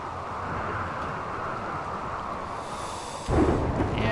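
Rainy thunderstorm in the video game Rimworld: a steady, fairly loud wash of rain noise with a low rumble swelling near the end, no speech.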